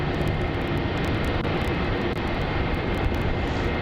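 A Jetstar Airbus A321neo taxis toward Terminal 4 at Melbourne Airport, a loud, steady wash of engine rumble and hiss that holds constant throughout, with no talking.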